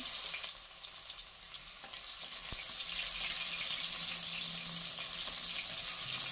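Chopped tomato dropped into a hot pan of oil seasoned with asafoetida, producing a steady, even sizzling hiss that holds throughout at moderate volume with no speech.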